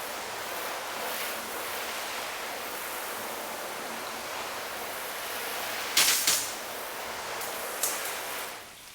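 A garden hose sprays water steadily across a car's paint, half coated with Carpro Reload 2.0 and half with Vonixx Sinergy, a continuous rushing hiss with a couple of brief louder bursts near the end.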